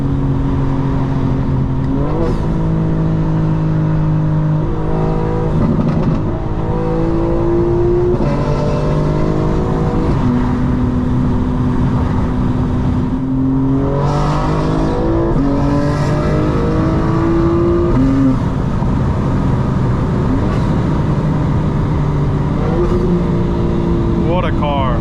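A 2025 BMW M4 Competition xDrive accelerates hard on the road, its engine climbing through the revs in repeated pulls with a drop at each gearshift, loud and close inside the cabin, while an excited voice reacts over it.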